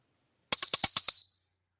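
A small porcelain bell, just over 4 inches tall, rung rapidly about six times, bright and close, its high ring lingering briefly before fading out.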